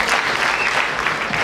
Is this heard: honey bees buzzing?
no